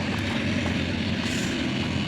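A tractor engine labors under heavy load, straining to pull an overloaded trolley through soil, its steady, loud low drone holding without pause.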